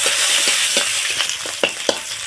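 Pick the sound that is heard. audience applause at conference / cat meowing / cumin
cumin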